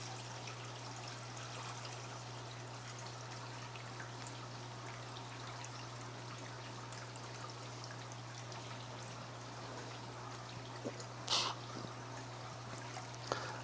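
Water pours steadily into a plywood sump, a soft continuous trickling stream under a constant low hum, with a brief louder splash near the end.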